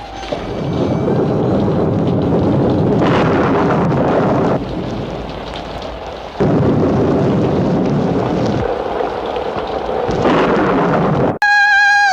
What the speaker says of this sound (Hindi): बाहर तूफान है।